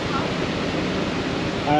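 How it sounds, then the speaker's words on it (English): Water gushes hard from an open gate paddle at one of the leaky Wigan canal locks, a loud, steady broadband rush that stays close and unbroken throughout, with a brief brighter surge at the end. "look at the water coming out of the gate paddle"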